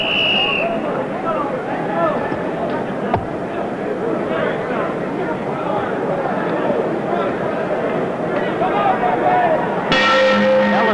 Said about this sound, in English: Standing before the bell sounding for the start of the 9th round.